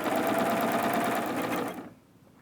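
A serger sewing machine runs a fast, even whir while stitching a decorative crochet edge with ruffles, loud and close for almost two seconds before it slows and stops.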